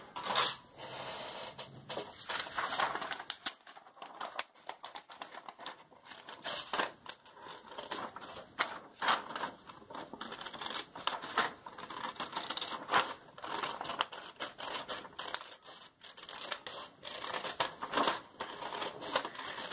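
Scissors cut out a coloured paper piece for an adult colouring bokeh/galaxy background, giving a steady run of close, crisp snipping and crinkling strokes over about twenty seconds with no talk.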